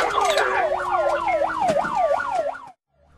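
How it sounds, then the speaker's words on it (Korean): A fire command vehicle's siren wails loudly and close in a fast, repeating up-and-down sweep, heading a fire convoy, then cuts off abruptly, leaving near silence. "사이렌을 크게 울리는 지휘차는 앞을 가로막는 차들을 저지하고 대열의 길을 틉니다."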